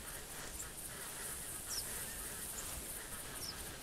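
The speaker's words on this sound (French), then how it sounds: "on peut entendre les bruits des oies" Sleeping geese in TheHunter Classic hunting game give soft, sparse honks over a steady outdoor ambience, faint and distant, with no talk.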